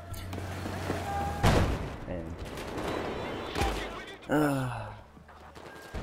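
Gunfire in the video game Battlefield 4 during a fight in Shanghai alleyways: fairly quiet, scattered shots and short bursts crack out over ambient game noise, with a few sharper hits standing out and a voice speaking at times.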